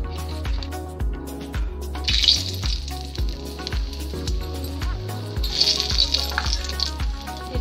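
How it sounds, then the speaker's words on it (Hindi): Chilli being added to hot oil while cooking okra sabji, giving a steady close sizzle and fry with bursts of brighter crackle, continuous with no speech. "अब चलिए हम इसमें मिर्ची डालते हैं।"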